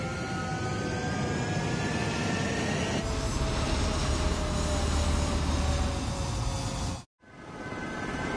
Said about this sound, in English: Mage 2, clear for takeoff